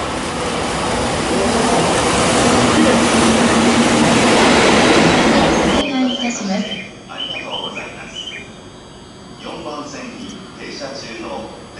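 A JR East E493 electric traction car hauling a test run rumbles loudly past on the rails at a Japanese station with a rushing roar, then fades to quieter clatter while people talk nearby.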